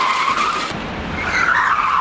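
A van whips around in a Rockford turn, tires skidding and squealing loudly and close by, the screech shifting in pitch as the vehicle spins with engine noise underneath.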